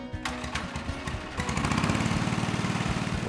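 The engine of a 1948 Gibson tractor starting and settling into a steady, loud, close chugging run with a fast, even put-put rhythm.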